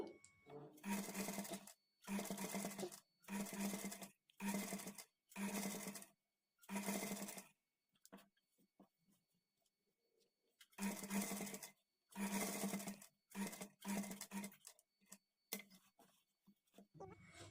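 A sewing machine stitches piping cloth onto the edge of a patchwork blouse neck in repeated short runs, each a fast, close whirring burst, with pauses and quiet handling between them.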